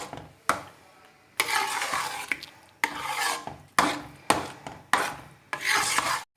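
Semolina halva with chopped almonds is stirred in a pan in rhythmic bursts of scraping and rasping strokes, each a second or so long with short pauses between.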